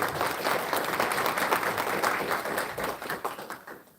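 Audience at a coin-collecting fair applauding as a presenter is invited on stage: dense, steady crowd clapping throughout, fairly loud and continuous, tapering slightly at the end.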